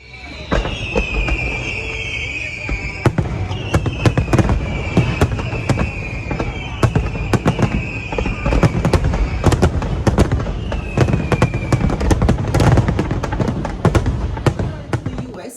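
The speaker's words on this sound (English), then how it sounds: "And during the evening, they have large shows of fireworks." A large evening fireworks show during Jamaica's independence celebrations, with a dense run of loud booming bursts and crackles, some rising whistles streaking up between the explosions, continuing throughout.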